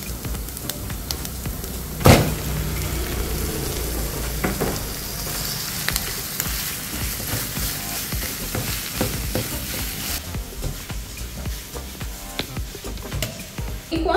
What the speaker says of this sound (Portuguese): aí agora eu vou colocar a carne moída